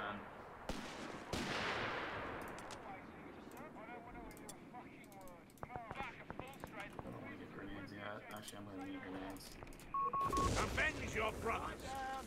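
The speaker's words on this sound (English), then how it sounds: "Enjoy artillery!" Artillery shells and gunfire from a Company of Heroes 3 battle, British artillery holding the front: scattered bursts and sharp reports over a noisy battlefield, with a louder barrage near the end and someone talking over much of it.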